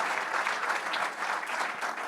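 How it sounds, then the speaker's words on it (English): Audience applause at a men's panel session, a dense, steady wash of many hands clapping at full volume with no break across the whole moment. "let's give a giant round of applause to Mr. Ken Posick"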